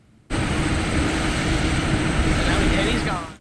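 A Robinson R-44 helicopter comes in to land at an airport air fair, a steady loud broadband engine and rotor roar that starts abruptly and holds constant, close by.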